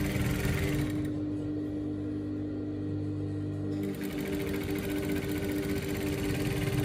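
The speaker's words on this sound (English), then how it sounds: "I'll just match the hem side and I'll go ahead and sew." A domestic sewing machine runs steadily, stitching a skirt lining along the hem with a quarter-inch seam, its motor hum loud and continuous for several seconds, briefly easing partway through before resuming.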